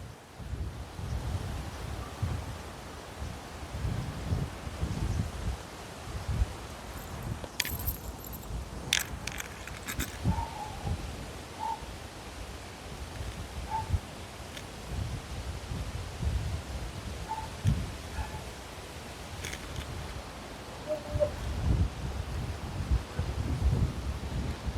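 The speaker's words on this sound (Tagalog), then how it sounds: "Lakas kasi yung hangin dito sa amin guys." Strong wind blowing outdoors during the amihan monsoon, a steady low rumbling buffet with gusty surges across the whole stretch, plus a brief metallic jingle and a few faint distant chirps.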